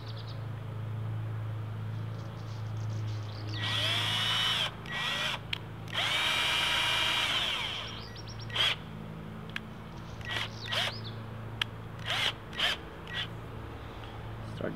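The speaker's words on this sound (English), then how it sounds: "so we're gonna have to use a 2mm drill bit" A power drill fitted with a 2mm bit bores a small hole in a wooden batten, giving two close, loud whining bursts over a steady low background hum, with faint bird calls and a few clicks afterward.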